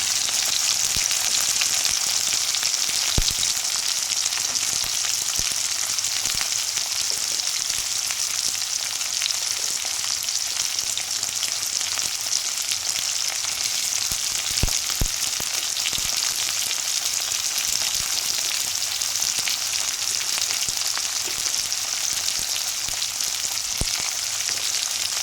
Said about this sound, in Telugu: ఆనియన్స్ అనేది వేసేసుకొని మంచిగా కలిపేసుకుందామండి.